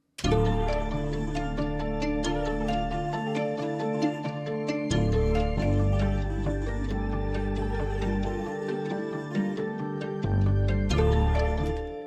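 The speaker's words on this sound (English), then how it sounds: "it's just a PLUCK bass" An analog lab pluck bass preset carries a simple melody over bouncing low bass notes, with passing notes between them, full and steady with no talking.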